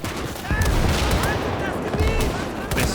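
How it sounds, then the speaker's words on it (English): Danish Madsen machine gun fire in a WWI trench battle game, loud rapid bursts of shots with overlapping gunfire and battlefield din throughout. "Battalion is using the Danish Madsen machine gun."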